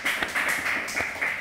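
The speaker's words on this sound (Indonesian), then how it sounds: "Wah, boleh tepuk tangan dulu dong pemirsa." A studio audience on a talk show claps briefly, a thin patter of hands with a few distinct claps over a short moment.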